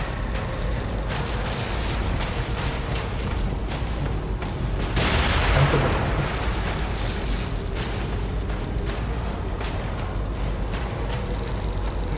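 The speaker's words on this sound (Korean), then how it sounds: "여기서 수류탄 던져볼까?" A thrown grenade explodes in The Evil Within, a loud sudden blast about halfway through that swells and then fades over a constant heavy game ambience, with no talking.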